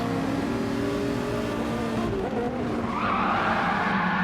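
A race car in a racing video game skids and spins after slamming on its brakes, giving a loud sustained tire squeal over a droning engine, close and continuous, with the engine pitch shifting as the car goes round.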